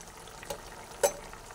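Carrot kofta curry simmers in a pan, giving a low, steady bubbling with two brief, louder pops close together.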